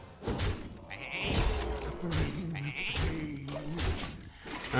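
Several sheep bleat in quick succession in the card game Hearthstone, over a busy, layered game soundtrack with thuds and effects, the calls wavering and fairly prominent.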